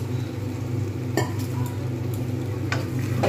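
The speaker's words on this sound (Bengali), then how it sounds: "এবারে আমি নাড়িয়ে নেব ভালোভাবে, সব একসঙ্গে মিক্স করে নেব" Chickpeas and paneer stirred together in a pan of simmering gravy, a steady soft scraping and bubbling with a couple of light utensil clinks against the pan.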